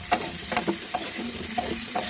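Vegetables for homemade veg biryani fry in oil, a soft steady sizzle broken by several light clinks and scrapes of stirring, faint and close with no talking.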